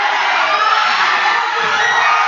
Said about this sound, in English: This is how intense the crowd is.